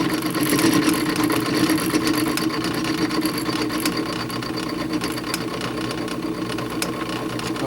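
A drill press set up as a milling machine cuts metal, shaving about a sixteenth of an inch per pass; a steady, loud, continuous motor whine and grinding chatter runs throughout with no pauses.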